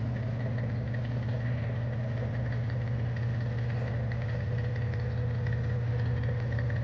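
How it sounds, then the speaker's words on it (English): Boat engine idling at a resort on Koh Chang island before heading out fishing, a steady low rumbling drone with even vibration, close by and continuous, with no talk. "And the boat's getting ready to go out."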